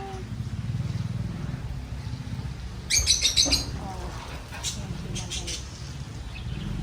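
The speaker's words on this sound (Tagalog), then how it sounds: "yan ang ating mga ibon" Brief bursts of high bird chirps from a short distance, over a steady low rumble of traffic or engine noise and faint background voices.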